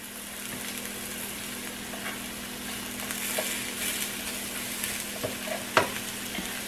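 Mushrooms frying in butter in a pan after being flipped, a steady close sizzle with faint crackles and a few light scrapes or taps of a utensil.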